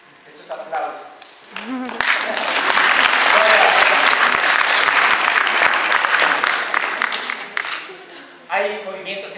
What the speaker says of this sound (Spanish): Todos los que han venido a verme bailar, aplaudan.